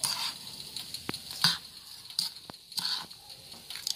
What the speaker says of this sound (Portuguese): Enquanto tá fritando, porque os bolinhos, quando tá fritando lá, eles vão virando sozinhos.